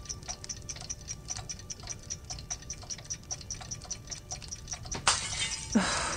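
A clock in the Doctor Who Adventure Games video game ticks steadily and close, about three ticks per second for several seconds, then a sudden loud crash of shattering breaks in at the end.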